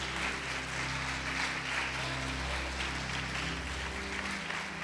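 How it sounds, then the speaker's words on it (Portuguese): A church congregation claps steadily through an evening Portuguese-language service while low sustained musical tones hum underneath the applause. "Pode aplaudir o Senhor Jesus e glorificá-lo."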